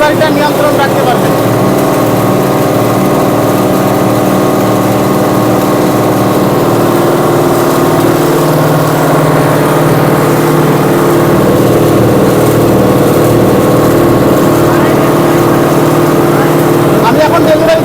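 A motor-driven machine, restarted with its RPM set correctly, runs with a steady, even drone from start to finish, a constant close mechanical hum with no clear changes.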